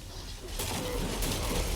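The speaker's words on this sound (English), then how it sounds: "More wolves, more birds." Birds in the video game The Witcher 3 coo and call softly, a faint, busy flutter of bird sounds that thickens partway through, with no speech.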